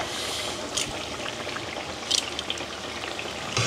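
Taro pieces crackle and sizzle steadily in hot oil, a close, continuous frying hiss with a few brighter pops and no voices.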